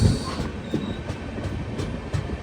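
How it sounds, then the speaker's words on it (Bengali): The Puri Shalimar Garib Rath Express rolls along the tracks near Cuttack Junction, its wheels clattering in a steady, rhythmic clickety-clack over a constant rumble from inside the moving train. "টাক টাক টাক টাক করে যে আওয়াজটা হচ্ছে"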